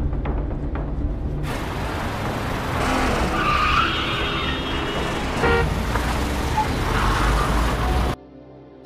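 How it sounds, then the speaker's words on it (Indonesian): A car swerves off its expected route and its tires skid with a long, loud screech over engine roar and a horn toot, then the sound cuts off abruptly. "Tiba-tiba mobil keluar jalur yang mereka duga sebelumnya."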